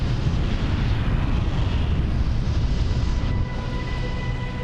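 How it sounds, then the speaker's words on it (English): A massive tornado touching down on the outskirts of Xenia, a deep, continuous rumbling roar dominated by low frequencies that holds steady and eases slightly near the end, with no voices. "a massive twister appears on the outskirts of Xenia"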